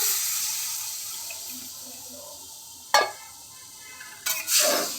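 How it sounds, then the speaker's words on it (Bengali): Water poured into a pan of cooked-down spice masala for a cottage-cheese ball curry: a low steady hiss broken by a sudden splashing sizzle, then another louder burst near the end. "এবার এতে আমি জল দিয়ে দেবো"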